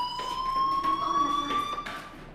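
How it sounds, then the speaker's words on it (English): A fire alarm in the video game Life is Strange gives a steady, loud electronic tone that rises slightly in pitch and carries without a break for about two seconds, with no talk over it. "Hey, do you hear that fire alarm?"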